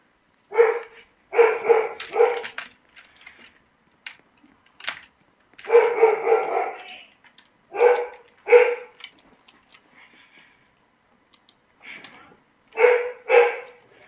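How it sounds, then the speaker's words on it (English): A dog barks in repeated short bursts, several sharp barks in quick clusters separated by quiet pauses, fairly close and clear with no talk over it. "that's just my dog barking in the background"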